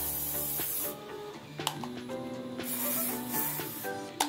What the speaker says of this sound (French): du spray pour les cheveux et il faut mettre pour que ça adhère au plateau